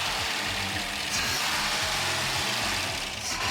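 An old engine on a car in a junkyard, sputtering and running roughly with a touchy throttle, the revs wavering and dipping irregularly under a loud, close, hissy broadband roar.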